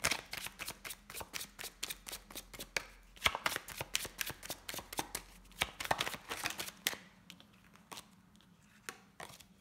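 Tarot cards are shuffled by hand in quick, crisp riffling bursts that repeat steadily through the whole stretch, close and fairly quiet, with no talking over them.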